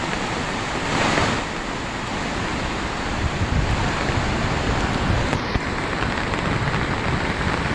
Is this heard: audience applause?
no